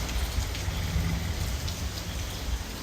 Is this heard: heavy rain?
yes